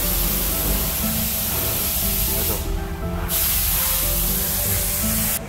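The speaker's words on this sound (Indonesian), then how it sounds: "ini dia setelah disemprot cairan pengkilat tahap finishing" Car gloss polish liquid sprayed onto a Toyota Rush during the finishing stage of detailing: a loud, continuous close spray hiss that runs steadily throughout with one short pause midway.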